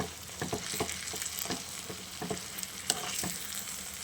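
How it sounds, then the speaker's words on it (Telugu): Food frying in a clay pot as salt and chili powder are mixed in, a steady close sizzle broken by repeated scraping strokes of the spoon at an even rhythm, with no voices. "కొంచెం సాల్ట్, కొంచెం కారం పొడి ఇప్పుడు వేసుకోవాలి ఫ్రెండ్స్. వేసుకొని బాగా మిక్స్ చేసుకోవాలి."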